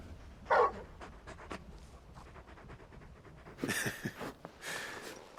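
Torgal, the large dog companion in Final Fantasy XVI, pants softly in close rhythmic breaths. Two louder bursts of huffing come near the end, with no talk over them.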